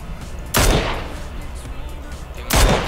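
Two loud gunshots in the video game PUBG (Playerunknown's Battlegrounds), evenly spaced about two seconds apart, each a sharp close blast with a short decaying tail over quiet ambient noise.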